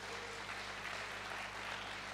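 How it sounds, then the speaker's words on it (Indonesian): A church congregation claps during a sermon, a continuous, even patter of many hands at moderate level, with a low steady hum beneath and no voices. "Kasih tepuk tangan sekali lagi."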